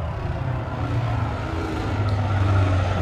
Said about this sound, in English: I do love the sound of this engine at the moment.